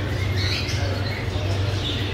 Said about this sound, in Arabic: فني طيور حب ريمبو